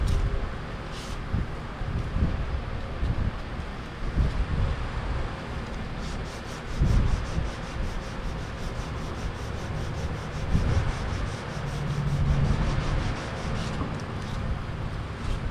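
Hand sanding of body filler on a paint run on car bodywork with only a couple of coats of paint, a steady close rubbing and scraping with brief pauses, no voices.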